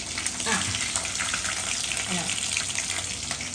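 Busy crackling and spluttering in a hot pan while making tin fish curry, a dense, continuous sizzle close by with a few soft pops.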